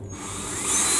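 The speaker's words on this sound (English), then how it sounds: "It's because I was just drilling my pilot holes." A power drill spins up and bores pilot holes into wooden deck planks, a steady whirring whine that climbs in pitch and loudness as it runs, close and alone.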